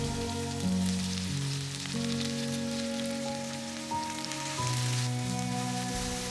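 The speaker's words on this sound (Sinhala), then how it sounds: "දවට ගත්ත බණ්ඩක්ක ටික තෙලෙන් බැද ගන්නයි හදන්නේ." Sliced okra fries in oil in a pan for an Indian-style dish, giving a steady, moderate crackling sizzle like light rain. Sustained musical tones play over the sizzle the whole time.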